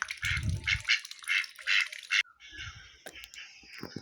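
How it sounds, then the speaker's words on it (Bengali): Ducks quack nearby in a series of short, raspy calls, a quick run of quacks followed by a few scattered ones. "এই তো আমাদের 4টা হাঁস আছে, 3টা হাসি আর একটা হাসা।"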